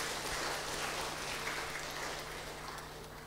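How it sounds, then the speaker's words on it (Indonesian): A church congregation at a Sunday service claps for the category committee, a soft, diffuse wash of applause that sounds distant and gradually fades over a faint steady hum. "Kita berikan tepuk tangan untuk pengurus kategori"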